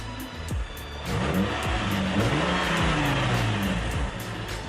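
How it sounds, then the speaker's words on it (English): A car engine is revved repeatedly, rising and falling in pitch several times, loud and close, with a rough idle between revs. "I'm going to give the car a few good revs and have it record them all."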